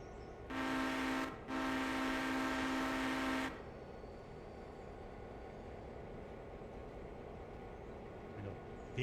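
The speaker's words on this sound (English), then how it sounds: "Big stinky diesel." A diesel locomotive in a train video game gives two close, sustained horn blasts, the first short and the second longer. Quiet background sound follows. The whole passage is fairly faint.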